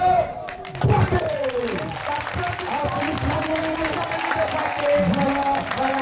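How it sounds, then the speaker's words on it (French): Warm applause for a visiting delegation from Poitiers at a nursery teachers' year-end party in Bouaké, a crowd clapping under a sustained musical or vocal tone, with brief voices and cheering mixed in. "applaudissements nourris pour toute la délégation venue de Poitiers"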